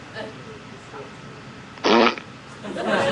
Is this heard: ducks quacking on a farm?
no